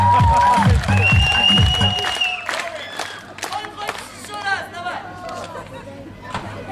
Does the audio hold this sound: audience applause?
yes